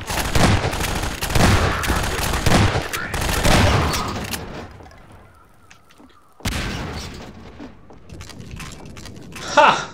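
Shotgun blasts in Half-Life 2 ring out as several loud, rapid bursts over the first four seconds, followed by quieter game ambience and another burst of action near the end.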